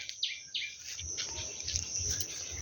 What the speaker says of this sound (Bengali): আর কত পাখির ডাক।